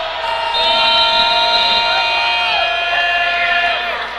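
At an American football game between the New England Cavalry and Richmond Roughriders, a stadium crowd roars steadily with loud sustained shouting, swelling early and then easing off, with a few whistle-like tones over the din.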